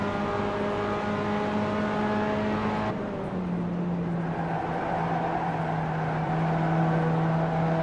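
A Solstice race car laps Road Atlanta in the iRacing simulator, its engine note holding steady, then dropping sharply on a downshift before climbing again, loud and continuous with no pauses.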